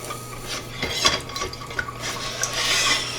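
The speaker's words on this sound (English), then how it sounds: "And I'm using a silicone whisk." A silicone whisk stirs granulated sugar in a pot, making soft scraping and light clinks against the metal, close and fairly steady with a few sharper knocks.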